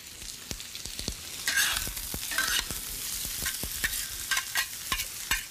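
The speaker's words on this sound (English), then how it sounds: "start with some onion. Once the onion cooks a little bit," Onion sizzles gently in a sauté pan while a utensil stirs it, giving quiet crackling with repeated soft scraping taps, close and steady.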